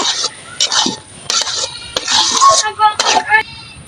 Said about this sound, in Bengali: ছোলা রান্নাটি হয়ে গিয়েছে এবার আমি এটা ঢেলে নেব